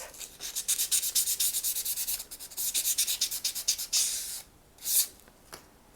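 Sandpaper rubs back and forth on the side of a cheap 100-yen shop frame for a miniature dollhouse display case, quick close rhythmic strokes, then a pause and a few slower scrapes.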